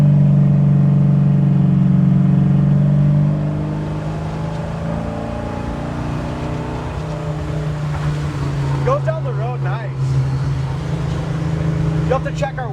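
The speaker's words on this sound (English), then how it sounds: "We'll just hit it and drive and see what we got." A 1970 Chevelle SS V8 rumbles loudly from a rolling stop, its engine pitch rising as it accelerates, with wind noise and a voice speaking over it near the end.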